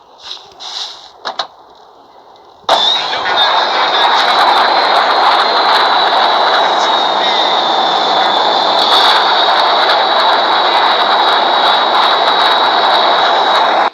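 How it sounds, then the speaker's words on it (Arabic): A military warplane roars overhead in a GTA San Andreas mod video game, a loud, sustained jet-like drone with a high whine that kicks in abruptly after a few quiet seconds of faint game sounds. "هاي كمان طائرة حربية للجيش الحر عشان تتأكد اسمع الصوت"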